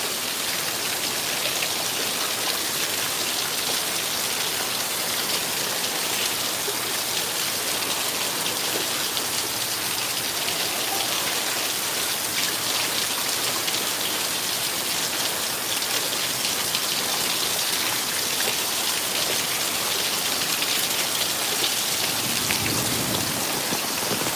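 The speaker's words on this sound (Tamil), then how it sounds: "சரியான மழை பெய்யுது பாருங்க எங்களோட ஊரில்" Heavy rain pours outdoors in a steady, dense hiss of drops striking surfaces, loud and unbroken for the whole stretch with no voices.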